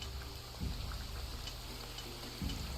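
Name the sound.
rain falling in a video game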